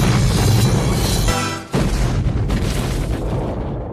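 An explosion in the 1987 film Predator: a powerful booming blast roars with dense rumbling, briefly drops out, then continues as a long, heavy roar that slowly fades.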